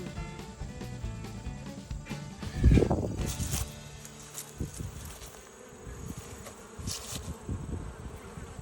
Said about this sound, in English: Fairly young bees flying, looks like, from the amount of fuzz on their bodies.